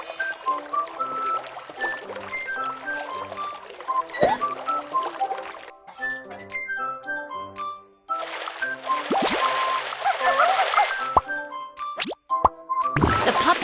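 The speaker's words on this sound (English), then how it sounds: "Tap the item to make the water flow into the bathtub." Cartoon game water runs from a faucet into a bathtub, with plopping, splashing pours in bursts, short pauses between them, and a few sharp drips near the end.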